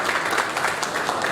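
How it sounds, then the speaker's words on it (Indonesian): Brief burst of audience applause at a launch and press conference in Jakarta, a steady wash of many hands clapping at moderate loudness. "Kita berikan tepuk tangan yang meriah hadirin sekalian."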